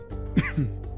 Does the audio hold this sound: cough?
yes